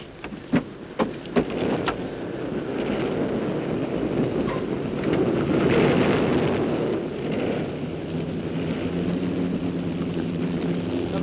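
A steady, broad roar of an aircraft in flight, with wind-like rushing noise and a few sharp knocks near the start.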